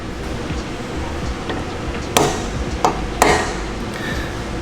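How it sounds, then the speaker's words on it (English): Three sharp metallic taps spaced about a second apart, a hammer striking a center punch on a Porsche 964 engine camshaft, over a steady background hiss. "Center punching my camshaft,"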